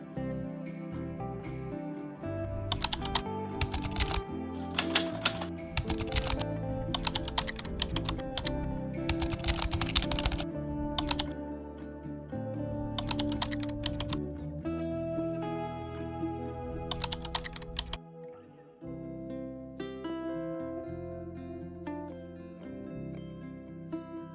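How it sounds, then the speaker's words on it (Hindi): Computer keyboard typing added as a sound effect during mobile video editing: dense bursts of clicking keystrokes, close and crisp, over a layered tonal music bed, thinning to sparser taps toward the end. "मैं एक कीबोर्ड के इफेक्ट को ऐड कर"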